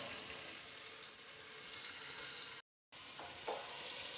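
A kilo of beef, with garlic and ginger, is browned in a pot, sizzling steadily and close up, broken by a short silent gap, then a few scraping stirs as the hiss continues.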